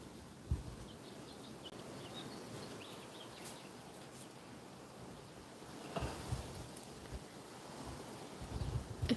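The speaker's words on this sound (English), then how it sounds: "Do you hear the wind, the birds?" Wind blows steadily outdoors near a Mexican corner store, a soft broadband rush with occasional gusts and faint bird calls, and no voices.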